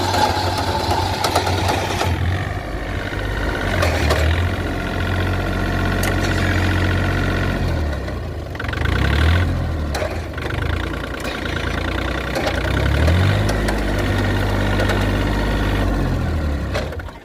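A tractor freshly repaired with new gears and a replaced gearbox top idles nearby, a loud, steady diesel chug with rhythmic knocking and brief revs swelling midway.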